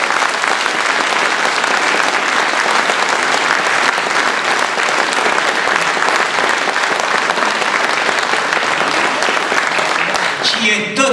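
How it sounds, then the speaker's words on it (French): Sustained audience applause fills a hall at a political gathering, dense steady clapping that stays loud throughout before tapering off at the very end. "Républicaine, présidée par Christine Tazin, que je vous demande d'applaudir."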